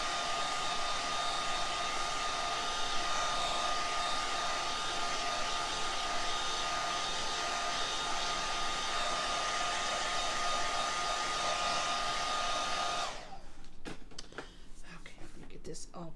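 A hair dryer blasting steadily up close to dry fresh paint on a scrap-wood craft piece, a loud continuous whoosh that cuts off abruptly near the end, leaving soft handling clicks.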